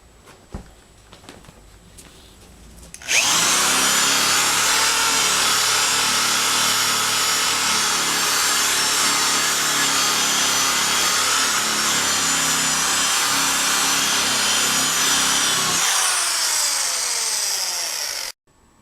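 A 1982 Suzuki GS1100E motorcycle exhaust system, off the bike, is machine-polished with Flitz polish. After a quiet start, a loud continuous whirring and rubbing rises sharply and holds steady for about twelve seconds, then stops.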